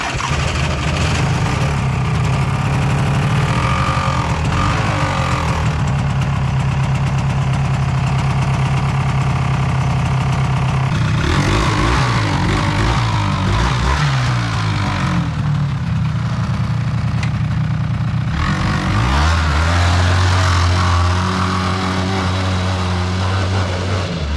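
A Polaris Xplorer 400 ATV engine runs loud and close, with a rough steady idle that shifts pitch through several blips and revs, and a cover rubbing against it, without talk.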